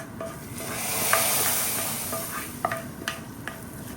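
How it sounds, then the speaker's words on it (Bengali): Garlic tempering (bagar) sizzles in oil in a pan for a Sylheti sour curry, a steady close hiss punctuated by a few sharp spattering pops and stirring clicks. "বাঙালি স্টাইলের একটা বাগার আমি দিলাইছি খালি রসুন দিয়া"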